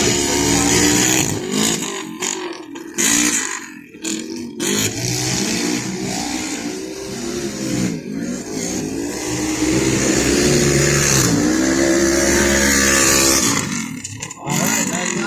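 Race cars roar around a Greenville track, with loud engines revving and rising in pitch as they pass close by, almost continuously, while a commentator's voice runs underneath.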